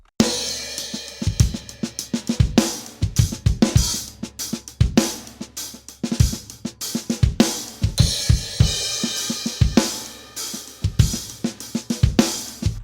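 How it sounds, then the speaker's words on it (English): A live drum kit played in a steady groove, with punchy kick and snare hits and washy cymbals ringing throughout, loud and close. "This is the sound of the drums."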